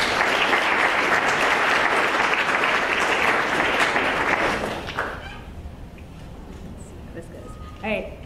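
Lecture audience applauds warmly to welcome a professor to the stage, a steady dense clapping that fades out after a few seconds, followed by faint rustling and a brief voice.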